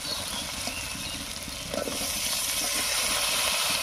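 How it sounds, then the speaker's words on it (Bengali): Chopped tomato hitting hot oil with fried onion, garlic and chili, a loud continuous sizzle and hiss that swells slightly after the tomatoes go in. "এবার এর মধ্যে টমেটো কুচি দেব।"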